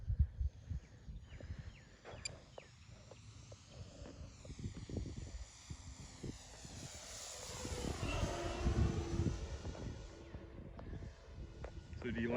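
Corsair fighter plane making a low pass, its piston engine droning steadily and swelling louder as it sweeps close overhead, with people talking nearby.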